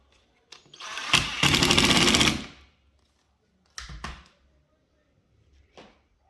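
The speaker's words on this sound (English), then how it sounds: "Then you take your screws and you screw them down." A power screwdriver drives screws down to fasten a canvas onto a drill for spin art: one long, loud whirring burst, then two short buzzes, and a faint final blip, all with no talking.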